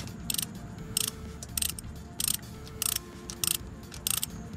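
Ratchet loosening the flywheel bolts on a 1984 Porsche 944, with the flywheel held by a rod: about seven short bursts of rapid clicking, spaced roughly half a second apart, close and fairly quiet over a low background hum.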